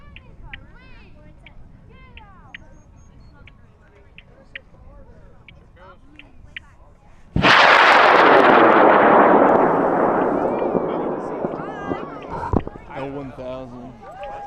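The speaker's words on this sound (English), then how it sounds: "rocket in 5, 4, 3, 2, 1." A high power model rocket launches from a tower at a national sport launch, a sudden loud roaring blast that holds steady for several seconds and slowly fades, after a few quiet seconds of background chatter.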